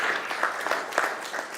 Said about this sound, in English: All right, so let's give Amanda a big round of applause.